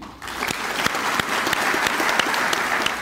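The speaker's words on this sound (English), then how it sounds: "please join me in a round of applause for the Garins and NAVFAC Southeast" A large audience at a Navy change of command ceremony for NAVFAC Southeast breaks into sustained applause, dense clapping that swells quickly and holds steady, with a few sharper claps standing out.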